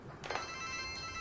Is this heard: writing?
no